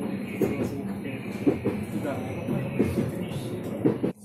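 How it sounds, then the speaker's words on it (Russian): An oncoming train rushes past a moving passenger train on a misty morning, giving a steady loud rumble with rhythmic wheel clatter, then cutting off abruptly at the end. "Мы встретились с поездом, который идет навстречу."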